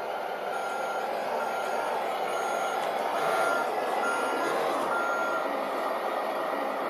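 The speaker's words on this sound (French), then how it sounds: "Et quand c'est une marche arrière lente, on a un bip de marche arrière." Reversing beeps from a 1/10 scale Hummer M1025 radio-controlled car (HGP408) moving slowly backward, a steady repeated electronic beep heard up close and alone, with a faint continuous background hiss.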